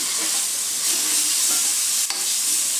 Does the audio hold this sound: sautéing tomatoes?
yes